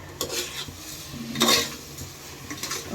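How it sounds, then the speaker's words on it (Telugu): Rice stirred in a little oil in a pan: repeated scraping and rubbing strokes of a utensil against the metal with light sizzling, close and steady, with no voices. "కొంచెం నూనెలో ఈ బియ్యాన్ని ఇట్లా కలబెట్టుకోండి."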